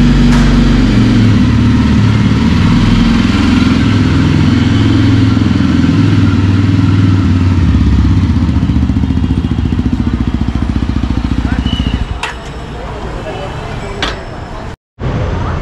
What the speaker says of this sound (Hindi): तो ये अभी निकलने वाली है अपनी बाइक शोरूम के बाहर